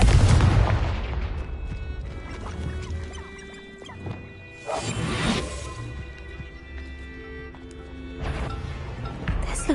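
Confringo fire-blasting spells in Hogwarts Legacy: a heavy booming blast opens, then further explosive bursts erupt a few seconds apart, each trailing off into a rumbling decay.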